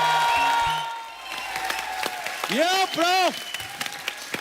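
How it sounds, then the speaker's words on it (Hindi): A studio audience on a Hindi comedy show claps in a short burst that follows music and talk, with a voice speaking over it. "अरे बहुत कम तालियां हैं, ज्यादा तालियां चाहिए आज।"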